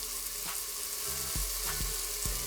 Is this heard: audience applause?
no